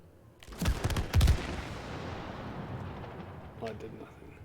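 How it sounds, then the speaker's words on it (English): Shooting at a target in the co-op video game It Takes Two, a few heavy booming shots clustered early and loud, then a long decaying rumble with a fainter burst near the end. "Go ahead and shoot that thing again. Shoot it in the middle."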